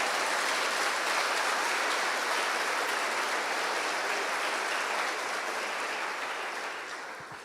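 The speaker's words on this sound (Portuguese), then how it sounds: "Aplauda o Senhor aí, vai." Church congregation applauding during a sermon, a dense, even wash of clapping from many hands that holds steady for several seconds and then slowly fades, with no speech over it.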